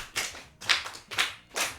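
Hands clap in short repeated bursts at a children's programme, about four clusters of applause separated by brief pauses, moderately loud and near, no speech.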